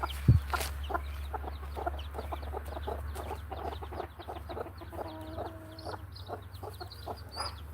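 Hens and chicks cluck and chirp on a farm over a steady low hum, with a burst of repeated clucks midway and scattered peeps throughout, close and moderately loud.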